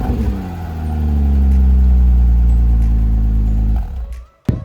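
A Porsche Cayman S 987 engine turns over and catches after a key start, settling into a loud, steady low rumble close by for several seconds before cutting off abruptly, followed by a few faint clicks.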